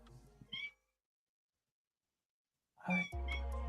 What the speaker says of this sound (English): We have a cat sighting.